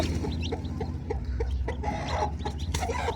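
A domestic hen clucks in short, repeated bursts close by, scattered irregularly over a low background hum, beside her newly hatched chicks.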